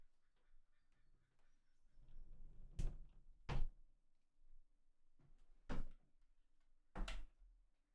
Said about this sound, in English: I'm just gonna shut the door.